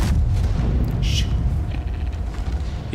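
A tank cannon fires in World of Tanks with a loud, close boom, its heavy low rumble rolling on and fading over a few seconds.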